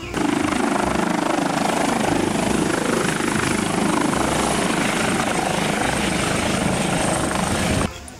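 Steady whirring rotor buzz of a toy helicopter, loud and continuous, cutting off abruptly near the end.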